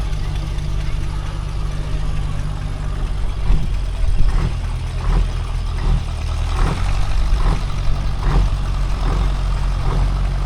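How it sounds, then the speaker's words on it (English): A very large old petrol engine runs steadily at a Sussex steam rally, giving a deep, heavy rumble with a loose, irregular thudding. It sits up close inside outdoor crowd noise. "It's a really big petrol engine."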